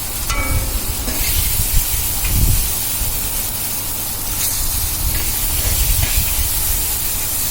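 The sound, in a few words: water added to hot pan, hissing steam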